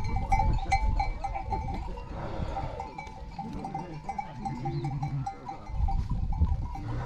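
A flock of fat-tailed sheep and rams moves across open pasture, with scattered bleats from several animals and faint bells clinking. A steady outdoor rumble of hooves and movement runs underneath throughout.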